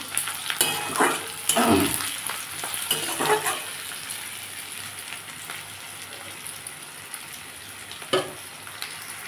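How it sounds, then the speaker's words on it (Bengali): Sliced onions sizzle and crackle in a hot pan as they are stirred to brown for a fish curry, louder at first and then settling into a steady, softer frying hiss. "পেঁয়াজটা আমি একটু লাল করে ভাজবো"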